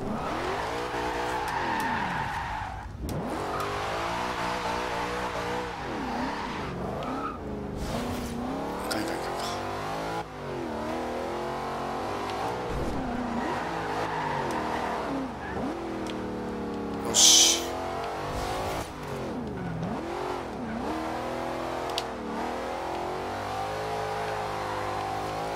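A car in Forza Horizon 2 drifting and doing burnouts, its engine revving up and down in long sweeping pitches with squealing tires and a sharp screech partway through.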